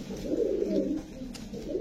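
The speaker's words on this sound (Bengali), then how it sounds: "এটা পাকিস্তানি ব্লাড লাইনের মাসুরা কবুতর ভাইজান" A Masura pigeon of Pakistani bloodline held in a cage coos close by, a soft continuous low rolling coo through the short moment, with a faint voice in the background.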